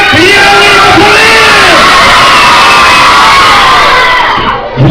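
A large crowd of boys at a children's show shouts a greeting in unison, a loud, sustained roar of young voices with whoops and yells, fading at the end.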